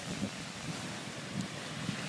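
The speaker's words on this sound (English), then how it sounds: "Windy!" Gusty wind buffets the microphone in a constant low roar, swelling in brief surges.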